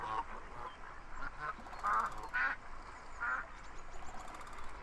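Ducks quack repeatedly in a virtual bird sanctuary within the VR game VR Chat, several loud honking calls in irregular bursts over a steady background hum.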